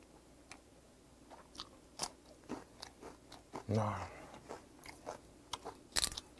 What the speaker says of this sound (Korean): 여기 딱 아삭함 필요할 때 고추 정도 하나.